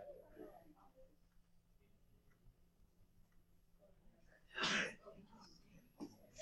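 A single sharp sneeze from someone in a classroom during a trigonometry lesson, a short loud burst rising out of a quiet room with faint shuffling and murmuring around it.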